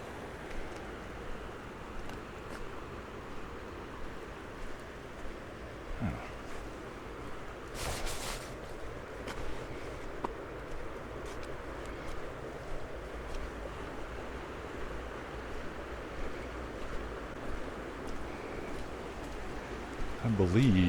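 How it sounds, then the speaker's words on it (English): A creek flows steadily through snowy Bear Canyon, Montana, a continuous rushing wash of water heard close by, with brief wind gusts and footsteps mixed in. "See the creek over here."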